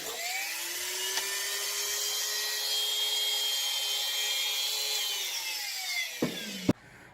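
A Dremel rotary tool whines steadily at high pitch while sanding the edge of a Rocket Bunny widebody fender on a Scion tC along blue tape, holding one sustained tone that dips slightly, then a brief knock as it stops.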